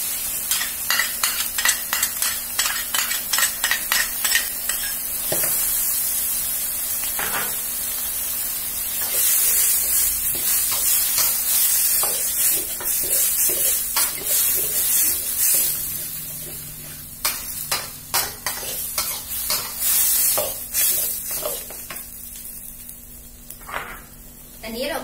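A spoon stirs sauce through a frying pan for spaghetti with sausage sauce, with scraping strokes, a steady sizzle and hiss, and someone talking over the cooking.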